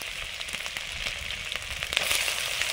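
Garlic, ginger, chili and onion sizzle hard in refined oil over a high flame, a steady bright crackling fry with small popping spits, close and continuous without speech.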